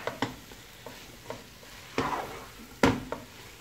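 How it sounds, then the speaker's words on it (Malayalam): Bitter gourd aviyal stirred in a pan, a quiet simmering hiss broken by a handful of sharp scraping strokes of the spoon, the last ones louder. "പാവക്കയും ചേർത്ത് അങ്ങോട്ട് ഇളക്കുക."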